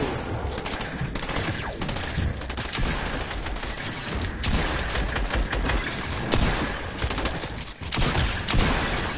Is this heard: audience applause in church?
no